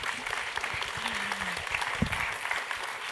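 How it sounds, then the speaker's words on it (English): Light applause from a conference panel audience, a soft patter of clapping hands spread across the room, fairly distant and steady. "Let's give them a round of applause."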